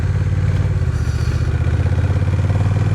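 A brand-new Honda Rebel 1100 idles with its stock exhaust, a steady close, even low thrum with a slight mechanical clatter and no voices.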